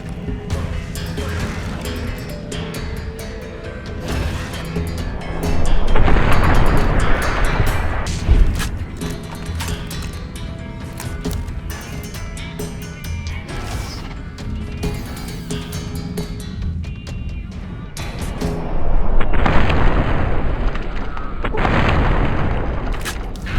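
Shotgun blasts boom repeatedly during a fight in Fallout: New Vegas, with loud heavy reports and game effects layered over continuous background noise.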